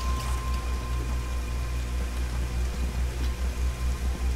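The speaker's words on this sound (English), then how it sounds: "This is one of the tropical downpours that you get in this game." Tropical rain downpour in the video game Dig or Die, a steady dense hiss of heavy rainfall with a constant low rumble underneath, continuous and loud throughout with no talk.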